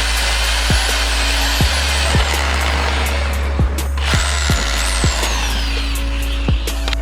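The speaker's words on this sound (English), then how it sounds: "I think we're ready to drill the other two holes" A power drill whirs in repeated short bursts while drilling holes to fit canards on a Mazda3, each stop marked by a sharp click, with steady mechanical noise throughout.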